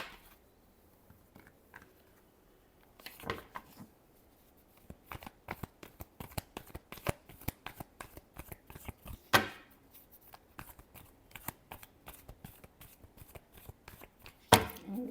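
Tarot cards are shuffled by hand in a rapid riffling flutter, with dense bursts of papery snaps and a few sharper slaps, close up and alone without talk.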